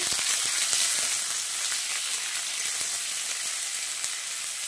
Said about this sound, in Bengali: পেঁয়াজটাকে আমি ভালো করে ভেজে নেব